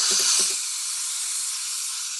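Hot steam hisses from a garment steamer aimed at the zipper and bodice of a gown, a close, bright rush that tails off into a softer, even hiss.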